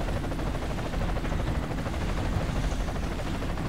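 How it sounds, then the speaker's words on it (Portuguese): A helicopter flies overhead in the PlayStation 2 game SpyHunter, giving a dense, loud, continuous rotor rumble mixed with a constant gunfire-like rattle and no pause throughout. "O helicóptero tá sobrevoando aí."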